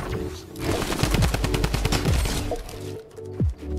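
Gunfire in a trio arena match of a video game crackles as rapid bursts of shots, loud and dense, then ends with a couple of sharp single reports.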